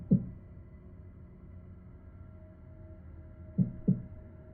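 Heartbeat effect for a dark fantasy tabletop campaign narration: a low double thump at the start, then after a long quiet stretch over a faint steady hum, two more heavy beats close together.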